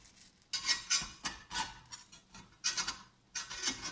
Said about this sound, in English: I'm just sliding the spatula along the side, making sure it's not stuck